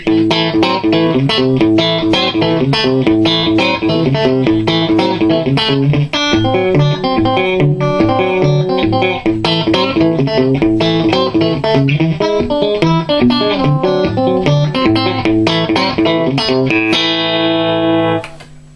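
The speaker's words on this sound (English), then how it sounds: "you can get a really nice country sound, middle and bridge pickup on my Strat" A clean, bright electric guitar, a Strat on middle and bridge pickups through a Diezel Einstein 100 watt head, plays a twangy country lick, notes picked quickly and ringing out before a final chord fades.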